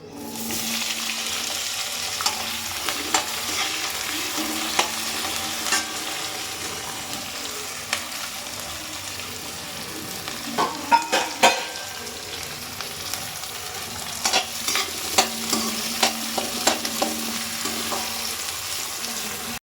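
Cumin and mustard seeds crackle while frying in a pan, over a steady hiss of sizzling oil, with sharp pops that cluster into louder bursts midway and again toward the end.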